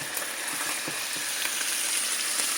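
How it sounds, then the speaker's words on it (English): Chuck pot roast sears in a hot pan, giving a steady, close sizzle and crackle of fat with faint popping throughout, no voices. "I'm gonna let it go a little bit more, get it seared a little bit more on both sides"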